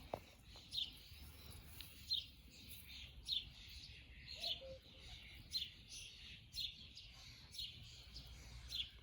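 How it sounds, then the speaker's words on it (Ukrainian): Birds chirp in short, repeated calls at a steady pace against a quiet background, fairly faint and distant. "Пташечки зранку співають."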